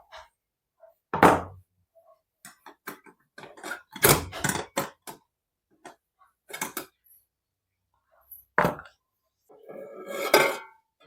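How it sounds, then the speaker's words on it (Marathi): Idli steamer plates lifted out one by one, each bringing a sharp metallic clank or clatter, separated by quiet gaps with small taps in between. "आता आपलं एक एक पात्र जे आहे ते आपण काढून घेऊया"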